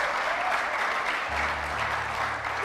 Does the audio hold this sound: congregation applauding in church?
yes